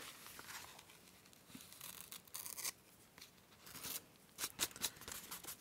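A paper edge is torn away by hand during scrapbook page crafting, several quiet close ripping and rustling bursts spread over a few seconds, faint and with no talking.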